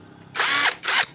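An impact wrench loosens an 8 mm bolt on a Yamaha FreeGo scooter during an oil leak repair, firing two short, loud, close bursts of rattling whir with a brief pause between them.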